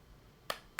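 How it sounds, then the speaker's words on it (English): Two sharp hand claps in quick succession, about a quarter second apart, crisp and fairly close against a quiet background. "I guess it's a double clap"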